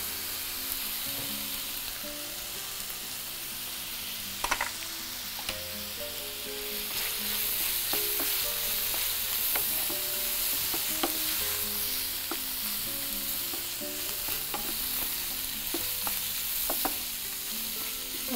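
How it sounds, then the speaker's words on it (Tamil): Ginger garlic paste and turmeric powder frying in a pan, a continuous close sizzle with occasional clinks and scrapes of stirring, heard beneath background music. "இப்போ அடுத்து இதில் இந்த இஞ்சி பூண்டு விழுது சேர்த்துக்கிறோம்."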